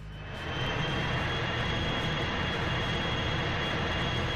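Plane engines roaring in the James Bond 007 Racing video game, a loud steady jet-like drone that swells in over the first half second, then holds at full strength with no talk.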